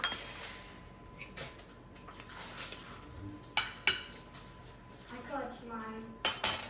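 A spoon and dishes being handled while cooking a baked French toast brunch, with scattered clinks and clatters of cutlery against crockery, mixed with faint background talk.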